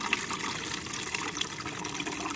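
Water poured from a bucket through a strainer while preparing organic fertilizer, a steady splashing, trickling flow close by with no talking.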